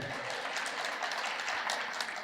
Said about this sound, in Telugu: చప్పట్లు కూడా కొట్టుకోరా